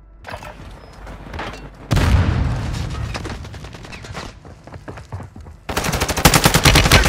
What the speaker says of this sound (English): Mortar strike is inbound.